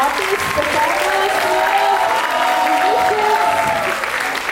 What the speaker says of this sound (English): a huge round of applause to these wonderful, wonderful artists, performers,